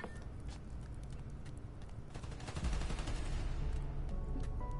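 Gunfire rattles through a Spider-Man: Miles Morales game scene in dense bursts under a busy, continuous background, growing louder and heavier about halfway through.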